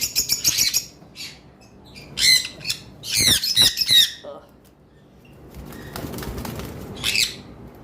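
Baby sun conure parrots squawk in sharp bursts and flap their wings while being handled, with short loud flurries separated by quieter pauses close by.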